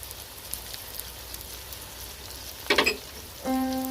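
Brinjal and peanut fry sizzles softly in a pan, a low continuous crackle with a brief burst of scraping stirs near the end, close and quiet, no voices.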